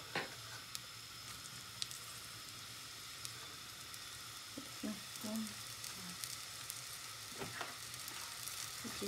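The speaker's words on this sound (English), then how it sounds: "fry the onions till it goes brown" Onions fry in a pan of regular cooking oil mixed with a little ghee, giving a steady, soft, crackling sizzle with occasional small pops and stirring clinks close by.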